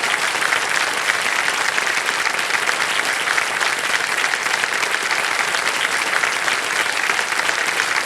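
Studio audience applause on the set of the KBC quiz show, a dense, loud, continuous wash of many hands clapping that holds steady for the full stretch with no pauses.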